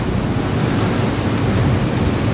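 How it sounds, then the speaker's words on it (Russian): Continuous roar of an underground waterfall about 18 metres high falling inside a cave, a dense, steady, loud wash of noise with no breaks. "По официальным данным, высота этого водопада составляет 18 метров."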